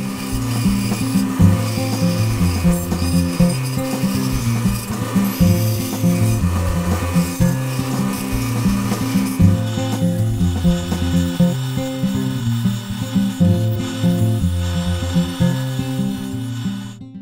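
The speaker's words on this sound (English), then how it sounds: "Cutting a tight radius on the bandsaw can be difficult" A bandsaw cuts a tight radius in a wooden ukulele neck, a loud, steady mechanical hum with a grinding, rasping cut laid over it. The sound stays constant for the whole stretch, with no one speaking.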